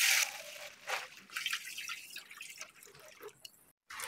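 Water poured into a food steamer, a splashy trickling stream that starts loud, dips, and comes in uneven bursts before a brief stop near the end.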